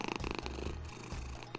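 A cat purrs in the horror game What's Under Your Blanket, a close, rhythmic rumbling purr pulsing steadily throughout with no talking.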